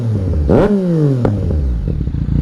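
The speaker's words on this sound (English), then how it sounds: "Give it a few revs." A 2018 Yamaha MT-09 SP motorcycle engine snaps up in a single sharp rev close by, then its pitch falls back toward a lumpy idle with a faint pop.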